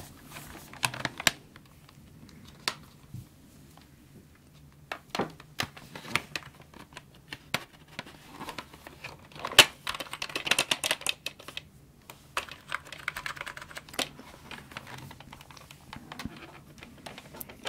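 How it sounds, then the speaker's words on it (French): Close, crisp typing on a vintage Apple mechanical keyboard: uneven clusters of clacky keystrokes with occasional louder key hits, over a quiet room. "Écoutons en détail le clavier."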